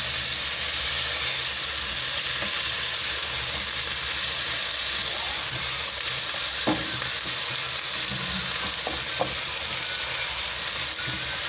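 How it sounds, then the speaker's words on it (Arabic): Potatoes frying in a pan as they are stirred, with a constant loud hiss of hot oil and a few faint scraping knocks. The frying is close and fills the whole stretch. "نقلب كده مع بعض البطاطس."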